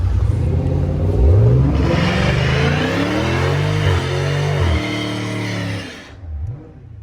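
A car engine roars and revs hard through a line-lock burnout, holding a loud, sustained, rising and falling drone before the revs drop away abruptly near the end. No one speaks.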